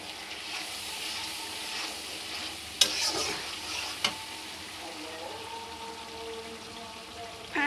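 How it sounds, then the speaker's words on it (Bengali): Taro and spice masala stir-fry in oil in a pan, a steady close sizzle with occasional scraping clinks from a spoon against the pan. "কচুমুখীগুলো ভালোভাবে কষিয়ে নিয়েছি।"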